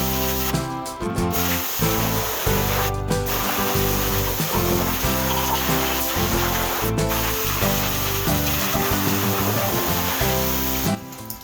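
A tool scrapes caked grime off the bottom of an AMC V8 360 engine's oil pan in a continuous, loud, abrasive rasp, broken by a few short pauses.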